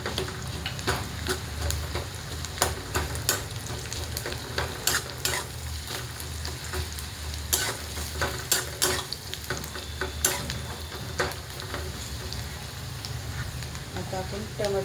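Coconut, garlic, ginger and sesame seeds fry in a pan, a steady sizzle broken by frequent scraping stirs, close and continuous throughout with no voices.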